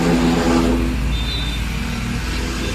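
A motorcycle-powered trolley's hydraulic tipper runs under a loud, steady engine drone that eases slightly after the first second, with no voices.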